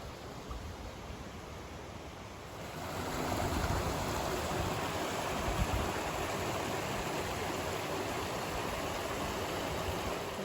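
A river flows toward the Huk waterfall near Tatariv in the Carpathians on a cold, windy day, a steady broadband rush of water that swells louder after a few seconds and continues evenly.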